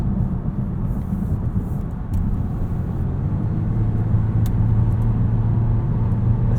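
A 2021 Volvo V90 Cross Country T6 AWD in dynamic, high performance mode, a steady low engine and road rumble from inside the cabin, continuous and moderately loud, with faint ticks from the road surface.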